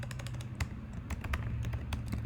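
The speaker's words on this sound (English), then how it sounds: "why am I not typing?" Rapid, irregular keystrokes on a computer keyboard while entering text into a plain text box, a close run of light clicks and taps with no talking.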